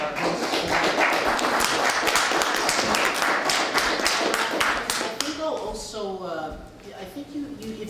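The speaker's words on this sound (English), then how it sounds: "maybe applaud our hosts" An audience at a talk claps for its hosts, a dense, steady round of applause that carries on for several seconds before thinning out, with voices speaking over the tail end.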